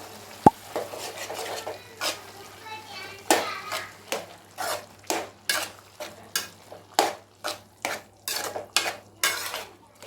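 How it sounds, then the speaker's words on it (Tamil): Lentils being stirred into cooking amaranth greens in a pot, giving a steady series of about a dozen scraping, clinking strokes in a regular rhythm, close and clear. "கீரை கொஞ்சம் வெந்துட்டுருக்கப்ப இந்த பருப்பை சேர்த்துருவோம். பருப்பு சேர்த்து கலரிக்கலாம்."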